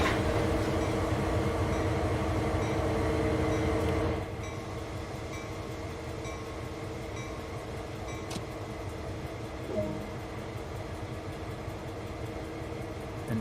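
Heavy freight train on Sherman Hill in Train Sim World 2, coupling up: a loud, steady rumble of idling locomotive engines that drops to a lower level partway through, with a faint clank near the end.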